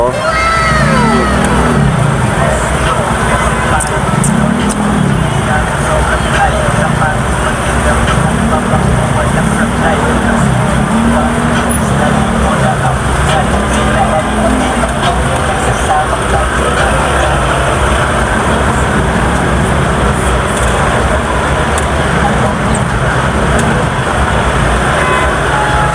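Busy road traffic on Burgos street in Makati, Manila: engines rumble and idle, with vehicles passing close by and occasional horn toots. People talk intermittently over the continuous loud din.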